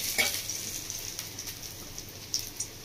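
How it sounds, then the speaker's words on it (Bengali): Pieces of rui fish fry in hot oil in a pan, a steady close sizzle with scattered crackling pops, fairly quiet and with no voices. "মাছটাকে উল্টে দিয়েছি, উল্টে আরো ভালো করে এক পিস মতো ভেজে নেব"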